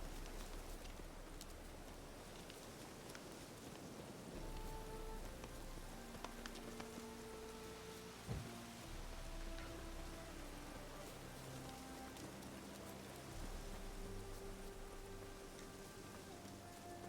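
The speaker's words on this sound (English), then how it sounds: "Looks like rain." Steady rain falls in The Witcher 3 video game, a dense broadband hiss that continues for the whole stretch beneath soft sustained music tones.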